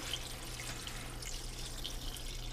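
Water pours steadily into a cooking pot for a short rib pepper steak, making a faint, continuous rushing stream with no break.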